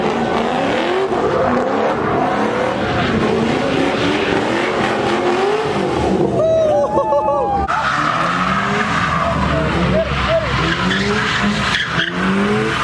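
A wrapped Ford Mustang at a crowded car meet roars and revs loudly, tires squealing as engines rise and fall, with people talking and shouting throughout.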